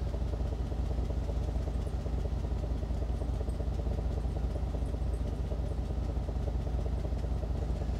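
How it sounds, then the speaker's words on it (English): A Cadillac Escalade engine idles with an exhaust leak, giving a constant, steady rumble with a fine ticking clatter layered on top, close and unbroken for the whole stretch with no talking. "other than that exhaust leak, the engine does sound good"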